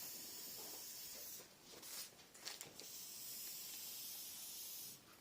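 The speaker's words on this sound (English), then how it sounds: "bit of a spray just to hold everything in place" Aerosol spray hisses over model railway scenery materials to fix them in place, a few soft bursts of breathy hiss standing out against a steady background hiss, with no talking.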